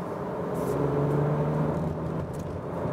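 A 2018 facelift Skoda Octavia with a one-litre TSI turbo petrol engine pulls on the road, heard from inside the cabin as a steady low engine drone and whir with rising tone, with no talk.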